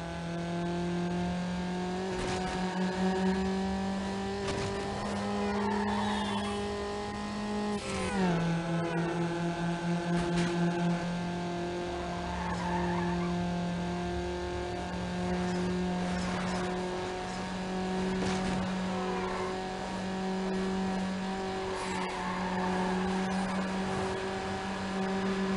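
Engine drone of a car driven hard in Need for Speed Underground, a steady high rev tone that drops as gears shift around the eighth second, with tyre squeal and skid noise over continuous game audio and no talking.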